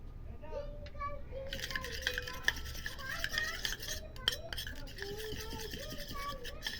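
A spoon scrapes and clinks in a small bowl as lemon juice, turmeric and honey are stirred into a paste, with quiet irregular tapping and scraping while someone talks over it.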